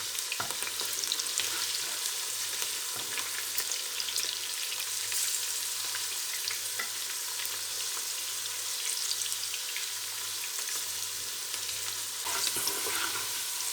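Chopped onion, one large onion, browning in a pan for a chicken and cauliflower dish, giving a steady close sizzle and crackle throughout with occasional stirring scrapes and no voices.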